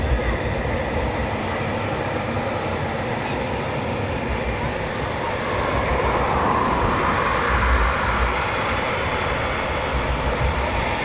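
Eurofighter Typhoon jet taxiing out at night at RAF Coningsby, a steady loud roar of engine noise holding constant for the whole stretch, rising slightly toward the end, with no talk.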